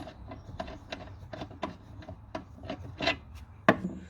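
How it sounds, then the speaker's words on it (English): A screw being undone on the negative terminal of a 2000 watt pure sine wave inverter, a series of short scraping, ratcheting rasps in an irregular rhythm, close and fairly quiet, ending with a sharper click. "Just undo this screw here, connector,"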